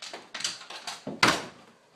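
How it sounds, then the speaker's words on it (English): A household door is swung and pushed shut, giving a run of quick knocks and thumps that build to one louder closing bang, then fade into quiet. "Shut the door."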